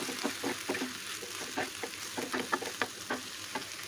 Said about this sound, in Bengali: একেবারেই কিন্তু এটা ভাজা ভাজা করবো